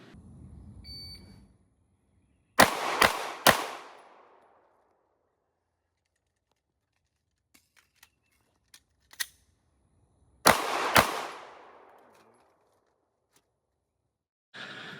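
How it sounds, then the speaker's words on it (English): Handgun shots are fired from low ready during an FBI concealed-carry qualification test. A quick volley of three sharp, loud close shots is followed by a quiet gap with faint clicks, then another rapid burst of shots. "Then still from low ready, Fire 6 rounds in 4 seconds."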